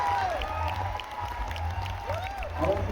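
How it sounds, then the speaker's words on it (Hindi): Applause and cheering from a crowd at a live student parliament event at LPU, a steady wash of clapping with scattered whoops and voices across the room. "आप सभी की जोरदार तालियां हो जाए"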